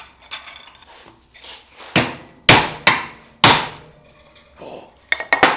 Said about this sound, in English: Maybe I put some wood over this and hammer on the wood.